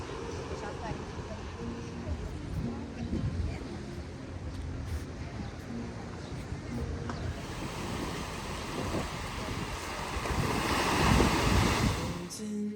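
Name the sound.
ocean waves and breeze at the riverside tower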